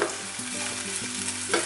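Goan sausage chilli with potatoes frying in a pan, a steady close sizzle with stirring scrapes and a couple of louder bumps, no voices.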